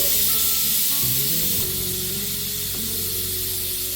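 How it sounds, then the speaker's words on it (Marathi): A strong, continuous hiss of steam rushes out of a pressure cooker under pressure, loud and close, with low rattling tones beneath it. "आपण कुकरची थोडीफार वाफ आपण या ठिकाणी काढतोय"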